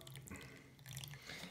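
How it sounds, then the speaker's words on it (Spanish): Water pours steadily into a Thetford C400 cassette toilet tank during a leak test, a close, continuous splashing rush with no talking. "Vale, vamos a llenar aquí de agua."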